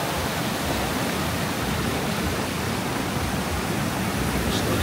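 Storm seawater pours down Blackpool promenade steps into the sea, a dense continuous hiss and roar of cascading water, loud and unbroken, with no voices.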